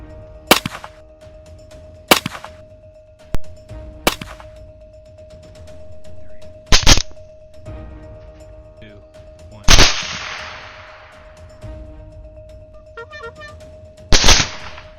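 Rifle gunshots ring out during a night hunt for feral hogs in Texas, with several sharp, loud cracks spaced a few seconds apart, some trailing into echoing rumbles across open ground.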